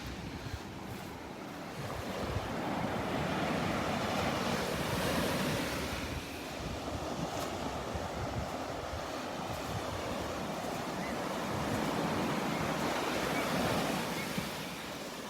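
Ocean surf rolls onto a beach at Loudermilk Park in Naples, Florida, a steady broad wash with wind rumbling across the microphone and faint voices now and then.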